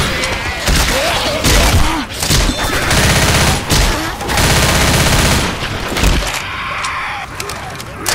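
Rapid bursts of automatic gunfire in Left 4 Dead on the custom map I Hate Mountains, loud and dense, with heavy thuds and cracks, running nearly nonstop with short pauses and voices mixed in.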